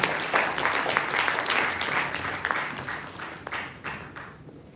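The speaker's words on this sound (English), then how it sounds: "Can we have a round of applause for him?" Audience applause for a professor, the general co-chair of an NCL 2024 event at a university, invited onto the stage: a steady wash of clapping from a hall crowd that thins toward the end.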